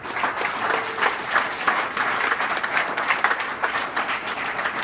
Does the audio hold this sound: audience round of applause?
yes